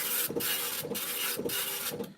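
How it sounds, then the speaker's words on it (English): An Apple ImageWriter II 9-pin dot matrix printer runs its self print test, giving a loud, continuous buzzing rasp that breaks into short pauses about every half second as the print head sweeps back and forth, with no voices. "it will just do that lovely 9-pin dot matrix sound"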